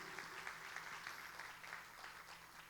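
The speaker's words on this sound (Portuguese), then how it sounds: "Dê um aplauso ao Senhor" Church congregation applauding the Lord during a sermon, a soft, distant patter of many hands clapping in a steady rhythm, faint and alone.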